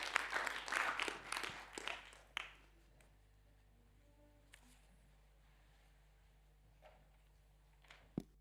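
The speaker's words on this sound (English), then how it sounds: "let's give a round of applause" After a talk at a programming languages conference workshop, a small audience in a room claps for about three seconds. The applause is fairly faint and fades out, followed by near silence with a few scattered small knocks.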